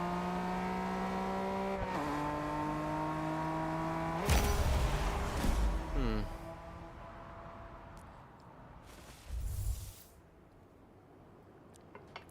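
A car driving in the racing game Test Drive Unlimited Solar Crown, a steady engine drone that shifts gear, followed by loud tyre squeals and skidding, a quieter stretch and another brief screech.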